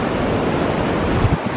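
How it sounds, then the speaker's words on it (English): Rushing water at Silver Falls waterfall pours in a loud, steady roar with some wind buffeting the microphone, close by and with no voices over it. "But it's where the waterfall is."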